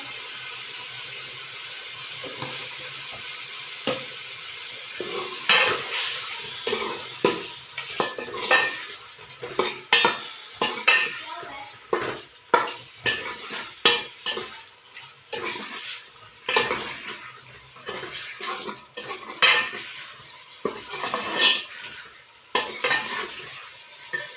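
Dry masala with ground coriander being stirred and roasted in a kadhai for Punjabi-style aloo chicken: repeated scraping and clinking of a spoon against the metal pan, with faint sizzling underneath, growing busier after the first few seconds.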